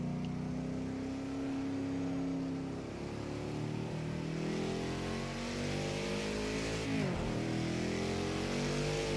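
A car engine in the racing game Project Cars 2 revs and shifts, held high then dropping through a downshift with no throttle blip, steady and moderately loud with a sweeping pitch change near the end, no talking.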